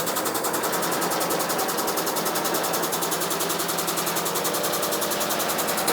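Air/hydraulic motorcycle lift table running steadily, a continuous mechanical hum with a fast regular pulsing flutter, loud and close throughout, with no talking.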